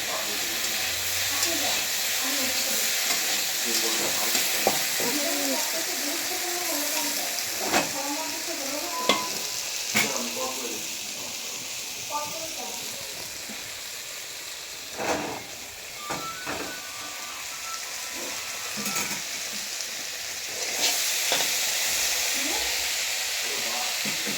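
Soybean curry fries in a pan, a loud continuous sizzle with scattered scraping stirs and clinks, while a voice talks intermittently over the cooking.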